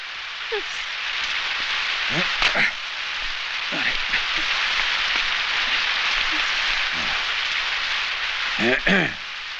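Constant hiss of rain falling, with a few short sounds rising briefly above the steady downpour.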